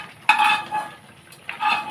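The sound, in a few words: stirring chicken in a pan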